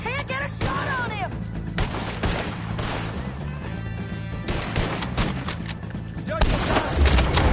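A Red Dead Redemption 2 gunfight against O'Driscoll gang members, with dense overlapping gunshots cracking and booming throughout, shouted voices over the fire and a heavy boom near the end.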